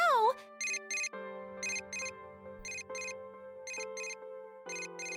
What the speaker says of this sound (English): A familiar ringtone sounds from my cell phone inside my bag.